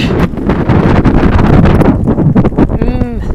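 Strong wind battering the microphone on an open road in southern Chile, a loud continuous roar and buffeting with a voice briefly audible near the end.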